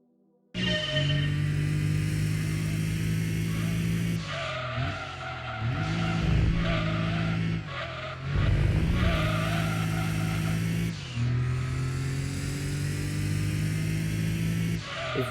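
A Toyota Supra RZ engine drones loudly through cornering in Gran Turismo 2, tires squealing and skidding in long stretches as the revs rise and dip, close and continuous.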